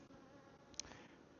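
Honey bees buzz around a hive that needs a queen, a continuous faint drone that holds steady throughout, with one brief click partway through.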